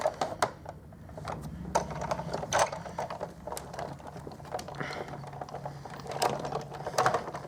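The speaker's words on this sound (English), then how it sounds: "you just need the Big Shot platform with 1 cutting pad. And I'll grab my embossing folder and I'll run that up and down." A Big Shot die-cutting machine, set up with its platform and one cutting pad, cranks an embossing folder through with a steady run of soft mechanical ratcheting clicks and creaks at close range.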